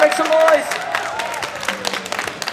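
A street performance crowd in Wellington claps and cheers in scattered bursts, fairly close, with shouts and a performer's voice over the top, the applause thinning out toward the end.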